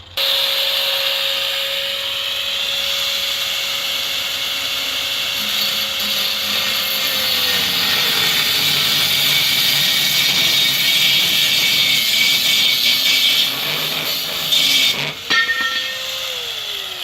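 A metal tube for a homemade diesel stove being cut with a power tool, a loud steady whining drone with shifting pitch that runs nearly the whole time, then a brief pause and restart near the end.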